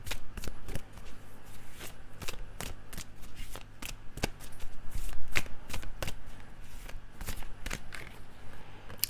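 Tarot cards shuffled by hand, close and continuous, with repeated crisp riffling slaps and flutters in an irregular rhythm that lasts throughout.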